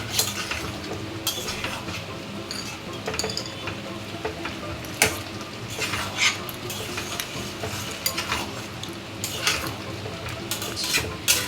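Taro and prawns being stirred in a frying pan with a metal spoon, repeated scraping clinks against the pan over a steady sizzle, close and with no talk.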